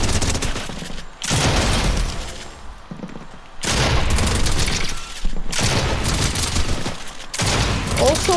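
Bursts of rapid gunfire from an aim-trainer session in the shooter game Raiders, loud and close, coming in several long volleys separated by brief pauses.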